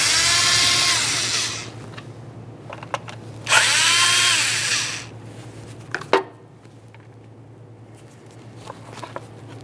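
A power tool whirs in two loud bursts while removing a pair of 7mm bolts from the small plastic engine cover on a 1998–2011 Ford Ranger 2.3L four-cylinder, with clicks and clinks of metal between and after.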